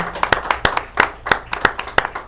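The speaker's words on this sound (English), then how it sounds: "Hey, give him a round of applause." An audience claps for a musician at a local evening show, with a few sharp, close hand claps landing in a quick, fairly regular rhythm over a couple of seconds.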